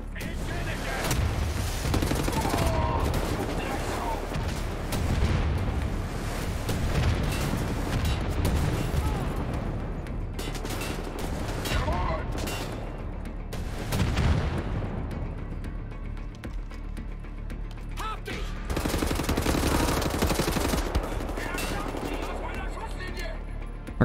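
Gunfire and explosive bursts in the shooter game Wolfenstein: The New Order, dense and loud throughout with repeated shots and blasts; someone talks over the action.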